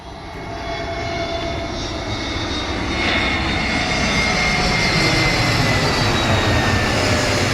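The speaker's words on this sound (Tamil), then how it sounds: "ஓகே ஃப்ளைட் போயிடுச்சு" Jet airliner engines roaring steadily and loudly as a plane passes close by at Changi airport, with the broad rumble swelling slightly over several seconds and no speech.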